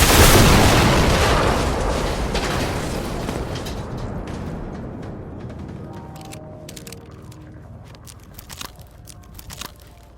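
A car blows up in the video game Generation Zero with a loud, broad boom that rumbles and fades over several seconds, followed by a few faint crackles and pops.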